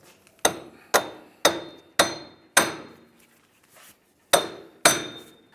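Metal-on-metal hammer blows drive a front wheel hub out of the steering knuckle on a 2015-2019 Hyundai Sonata: seven sharp, ringing strikes spaced about half a second apart with a short pause before the last two, close and loud with no talk.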